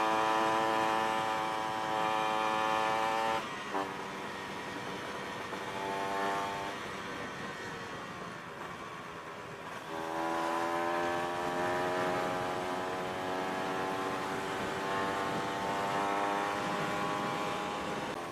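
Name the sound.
motorcycle with big-volume exhaust being revved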